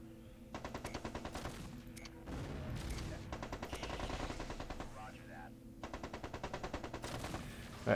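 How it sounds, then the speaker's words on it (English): An autocannon fires in the video game MechCommander 2, producing repeated bursts of fast, rhythmic shots with brief breaks between volleys over other battle sounds. "Is that an autocannon that fired?"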